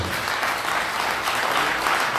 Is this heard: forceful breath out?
no